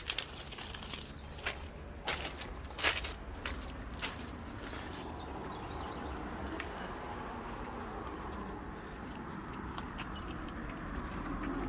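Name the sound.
keys jangling for a Sunseeker boat entry door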